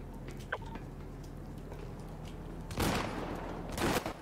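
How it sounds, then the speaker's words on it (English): Shotgun gunfire in the video game GTA V, two heavy bursts near the end, the second close after the first, over a quiet background with a faint tick earlier. "He's got a shotgun."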